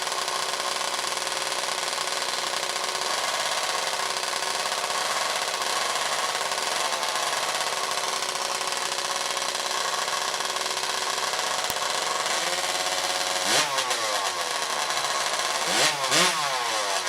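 Racing chainsaws with 252 cc two-stroke engines run flat out at a STIHL Timbersports championship, a loud continuous high-pitched snarl throughout, with a few rising revs near the end.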